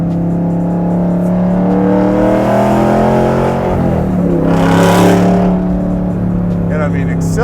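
A 700 hp LT4 V8 in a 1967 Camaro pro touring car pulls hard through the revs from inside the cabin, a loud rising engine drone with a brief shift dip midway.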